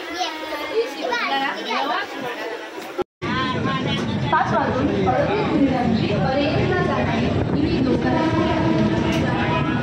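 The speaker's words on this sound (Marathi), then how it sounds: "ट्रेन निघालेली आहे।" A passenger train pulling out, its steady rumble and rolling noise continuous beneath a crowd of children and adults chattering and calling out close by.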